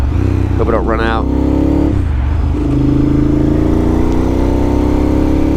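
A Ducati Monster 1000 motorcycle engine hums loudly and continuously while riding, with a quick rising rev near the start and steady wind-blown drone, and a rider talking over it.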